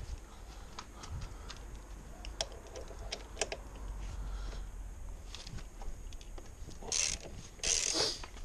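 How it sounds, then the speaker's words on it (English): Wrench loosening a bolt on the front fork of a Suzuki VanVan RV200 motorcycle, with a series of light metallic clicks and ratchet-like ticks, close by and fairly quiet, ending in a few louder scraping bursts. "Don't remove it all the way, don't remove the bolt, just loosen it, okay, just like that."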